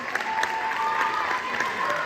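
Audience clapping at a sixth-grade band Christmas concert, a steady crowd of applause filling the room with a few sharper claps standing out, continuing evenly throughout.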